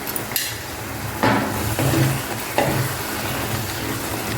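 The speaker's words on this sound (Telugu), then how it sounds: "నెయ్యి వేసుకోండి, ఇందులో 2 స్పూన్ల నెయ్యి వేసుకోండి." Ghee stirred into ash gourd halwa in a pan sizzles loudly and close, with a few scraping stirs and spoon knocks against the vessel, no talking.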